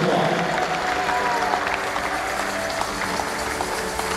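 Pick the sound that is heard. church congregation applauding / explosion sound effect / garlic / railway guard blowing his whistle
church congregation applauding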